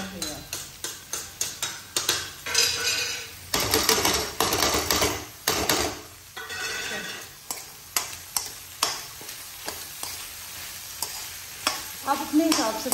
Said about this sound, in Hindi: अब इसमें मिला देंगे अपनी सारी पनीर